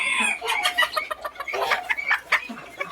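Bantam chickens cluck and squawk in quick, irregular bursts close by, overlapping one another with a short crow-like call near the start.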